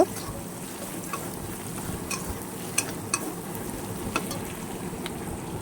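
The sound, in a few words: ginger and garlic frying in a pan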